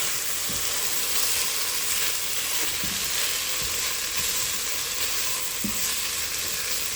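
Ground meat for burgers, seasoned, browning and sizzling in a pan: a steady, close frying hiss with a few soft stirring scrapes and taps, no talking.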